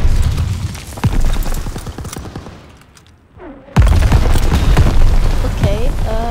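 Explosions in Call of Duty: WW2 as ammo caches are shot, heavy booming blasts under dense rapid gunfire. The din drops briefly to near quiet midway, then slams back in loud and continuous.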